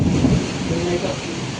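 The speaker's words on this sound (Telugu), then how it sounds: "ఇంకా వర్షం పడతానే ఉంది" Steady heavy rain with a low rumble of thunder during a night-time downpour at home, a continuous loud wash that softens slightly after the opening rumble.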